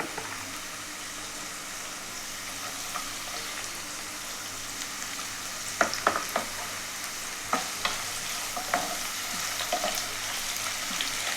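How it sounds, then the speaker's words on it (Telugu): Carrot pieces frying with sliced onions in a pan, a steady soft sizzle with a few sharp scraping clicks of stirring toward the end, no one speaking. "ఉల్లిపాయ ముక్కలు కొద్దిగా వేగిన తర్వాత ఇందులోనికి కట్ చేసి పెట్టుకున్నటువంటి క్యారెట్ ముక్కలను వేయాలండి."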